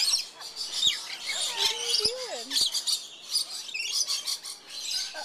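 Lorikeets squawk and chirp up close in a series of sharp, piercing calls and rising and falling whistles. A few distinct clicks come through a busy, noisy background.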